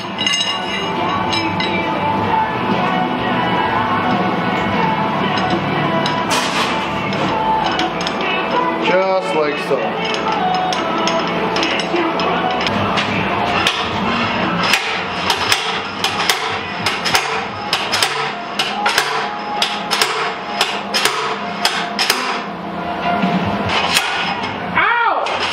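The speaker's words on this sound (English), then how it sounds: "Then you put your slide hammer on it." Repeated sharp metallic impacts from a slide hammer pulling an axle bearing from a Ford 8.8 rear axle, clanking in an irregular rhythm that quickens toward the end, with some brief voices in between.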